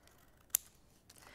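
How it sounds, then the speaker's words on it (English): A single sharp snip of scissors cutting around paper craft pieces, close and crisp against a quiet room, followed by a faint second rustle. "So bringing in your scissors, I'm just going to snip around these bits here and then just cut off there."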